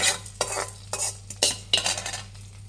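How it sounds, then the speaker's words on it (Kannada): A spoon scrapes and clinks against a bowl in several uneven bursts, mixing tempering into moist, thick curd rice, close up with no talking. "ಒಗ್ಗರಣೆ ಎಲ್ಲ ಇದಕ್ಕೆ ಹಾಕಿ ಚೆನ್ನಾಗಿ ಮಿಕ್ಸ್ ಮಾಡಿ"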